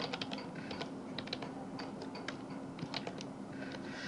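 Typing on a computer keyboard, a quick uneven run of light, close key clicks and taps over a faint background hum.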